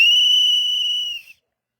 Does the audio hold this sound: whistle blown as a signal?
yes